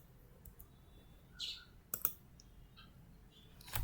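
A computer mouse clicks sharply a few times, faint and close, with long gaps in a quiet room.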